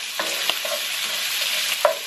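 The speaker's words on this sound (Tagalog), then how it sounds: "lutuin lang natin ng siguro mga 1 minute yung ating bawang at saka sibuyas" Garlic and onion sauté in a pan for ginisang ampalaya with pork and eggs: a bright, close sizzle, broken by a few quick scraping stirs.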